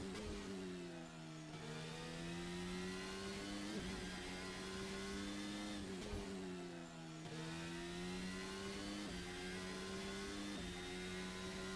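Race car engine pulling hard through a hot lap on a track, pitch climbing steadily in long rising sweeps, dropping sharply at each gear change or braking point, then rising again, loud and continuous throughout.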